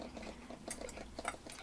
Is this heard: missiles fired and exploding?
no